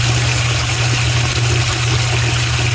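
A new washing machine fills with water, a steady loud hum of the inlet pump with a constant hiss of running water, unbroken and without talk.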